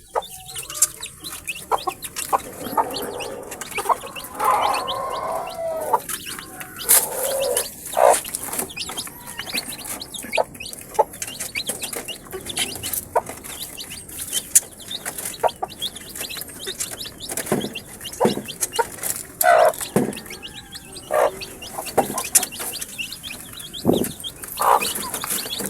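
A hen clucks loudly and restlessly among peeping chicks, hungry on their second day while feed is withheld; sharp repeated clucks and chirps come close and frequent over a steady rustling farmyard background.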